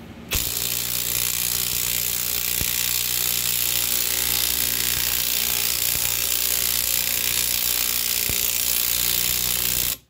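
A Lisle 22800 wheel stud installer draws a stud into a hub with a steady, loud mechanical grinding drone that runs nearly unbroken for about ten seconds, with a few sharp clicks.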